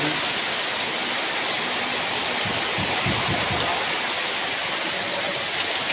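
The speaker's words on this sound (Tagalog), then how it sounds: "Grabe ang lakas ng ulan talaga." Heavy rain pours steadily and loudly, a dense unbroken wash of drops on surfaces with a brief rumble of other sound in the middle, no talk heard.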